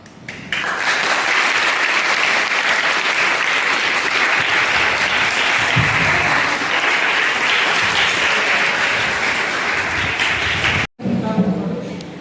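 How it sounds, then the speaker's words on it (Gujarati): An audience at an Independence Day program claps loudly and steadily for about ten seconds, a dense wash of applause that cuts off abruptly near the end. "ફરીવાર તે ભાઈ માટે જોરદાર તાળી."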